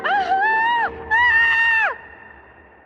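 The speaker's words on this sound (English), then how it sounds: "He was still thinking about this when he heard the woman scream." A woman's scream as an audiobook sound effect, two loud, long, high-pitched wails with a brief break between them, then fading into quiet.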